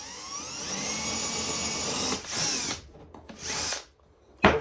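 A power drill bores a small pilot hole for a threaded insert, ahead of a larger bit, whirring steadily up close for a couple of seconds before stopping in short bursts and a final brief whir.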